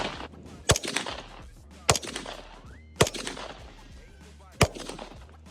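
A Ruger LC Carbine in 10mm fires four sharp, loud shots at a 50-yard target, evenly spaced about a second apart, with some faint background noise between them.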